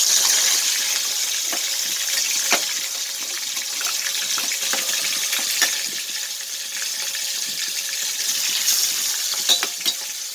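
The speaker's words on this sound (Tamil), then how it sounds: "இந்த கருவாடு கழுவு ரொம்ப ரொம்ப ஈஸி" Dry cod fish is rinsed under running water in a kitchen, a steady close splash and trickle with occasional knocks and rubbing sounds as the fish is handled, no talking.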